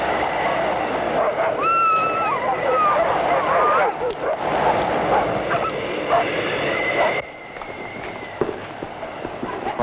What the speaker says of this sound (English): I'm going to feed the dogs.